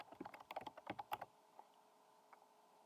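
Fast bursts of clicking keystrokes on a computer keyboard, about a second of rapid typing close by, then a couple of isolated taps in a quiet room.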